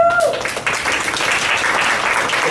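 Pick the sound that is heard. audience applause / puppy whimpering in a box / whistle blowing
audience applause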